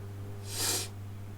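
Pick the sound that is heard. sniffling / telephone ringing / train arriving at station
sniffling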